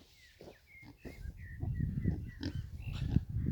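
Saddleback pigs on a farm grunting and snuffling steadily, close and fairly loud, with several animals overlapping and no talk.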